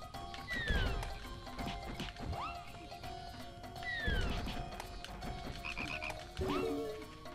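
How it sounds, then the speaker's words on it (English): Repeated croaks and thuds from a frog enemy being struck in the Pikmin 2 video game, with game music and chirpy sound effects recurring in bursts over several seconds. "Hang on, I'm almost done beating my frog to death"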